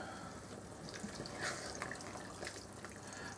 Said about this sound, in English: I'll add a can of water and then leave that to simmer